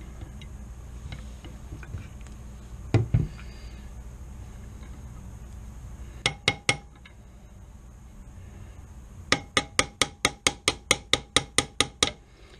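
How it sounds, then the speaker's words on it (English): Sharp metallic taps of a brass punch driving out a pin while disassembling a Winchester 94 rifle: a single strike, then a quick burst of three, then a steady run of about ten evenly spaced blows, close and loud. "I'll use a brass punch and tap it out that way."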